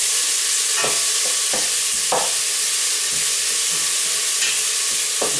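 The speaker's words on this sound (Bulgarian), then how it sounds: "Бъркаме, за да не загаря." Carrots stirred in hot oil in a pan, a steady frying hiss with a few scraping utensil strokes spaced through it, close and alone with no voices.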